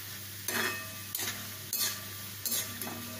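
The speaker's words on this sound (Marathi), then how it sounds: "व्यवस्थित हलवून घ्यायचे" Poha frying in hot oil for corn flakes chivda, a steady loud sizzle with four periodic scraping stirs of a utensil through the pan.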